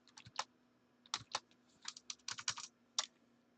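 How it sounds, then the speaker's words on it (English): Someone types on a computer keyboard, producing short bursts of crisp key clicks in irregular clusters close by, over a faint steady hum and with no speech. "I'll type it here."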